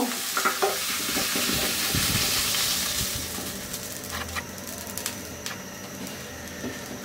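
Potato and cauliflower pieces sizzle as they fry in a pan, with a steady hiss of hot oil and occasional stirring scrapes, heard up close and continuous.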